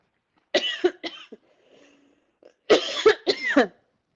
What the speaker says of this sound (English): I'm totally coughing all over.